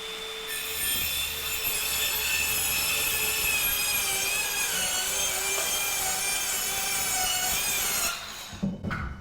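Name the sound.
Dewalt saw cutting wood sheathing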